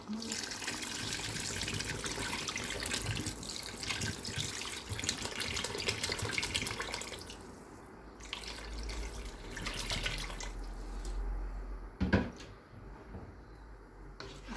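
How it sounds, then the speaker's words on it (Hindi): A litre of water is poured into a cooking pot of tomato and spice masala for a meat curry, a steady rushing splash that runs continuously, then thins out near the end. "अब हम इसमें 1 लीटर पानी शामिल कर देंगे।"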